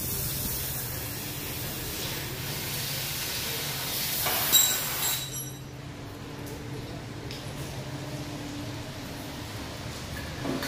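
Water sprayed onto the hot exhaust of a BMW E36 with a muffler delete and Rush exhaust gives a loud, steady steam hiss that runs for about five seconds, then cuts off, leaving a low background rumble.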